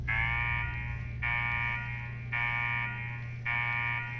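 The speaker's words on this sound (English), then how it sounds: "What the hell is that alarm?" Alarm blaring in the video game Fallout 4: a loud harmonic electronic tone pulses in four long, steady bursts with short gaps, over a constant low hum.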